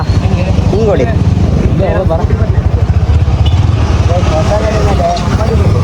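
A Yamaha R15 motorcycle engine idles close by with a loud, steady low throbbing drone that runs the whole time, while voices talk over it.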